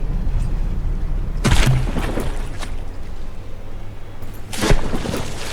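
Two heavy booms from a battleship battle in the From The Depths video game as a turret is blown apart, each a sudden loud crack with a rumbling tail, spaced a few seconds apart over low background noise.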